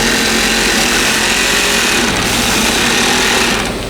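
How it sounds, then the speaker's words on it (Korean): An industrial sewing machine stitches a mattress in a factory, a loud, steady mechanical rattle that runs without a break before easing slightly at the end. "재봉틀인데 다른 느낌의 재봉틀이네요."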